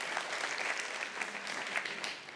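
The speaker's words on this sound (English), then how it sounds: "Clap your hands." Festival audience at a talk claps their hands in a continuous, even wash of applause heard from across a large hall, with no voices on top.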